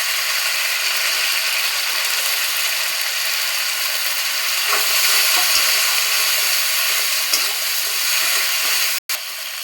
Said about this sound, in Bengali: একটু জল দিয়ে আইতেছি মশলাটা ভালো করে একটু কষা নিব